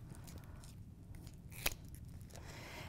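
Scissors cut a velcro strip in half for a side clamp, giving a single quick, faint snip midway through, set against a low steady room hum.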